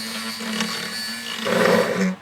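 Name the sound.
drilling small pilot hole in wood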